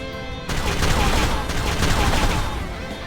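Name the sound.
gunfire from a video game, Final Fantasy War of the Visions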